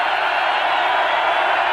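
Steady roar of a college football stadium crowd at the 1983 Arizona at California game, a loud, unbroken wash of cheering and shouting with no pauses.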